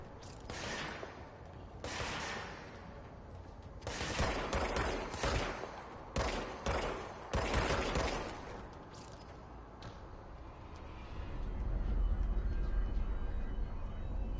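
Enemy gunfire in the video game Control erupts in repeated loud bursts and single cracks, irregularly spaced across the stretch, ending in a sustained heavy rumble, with no talk over it.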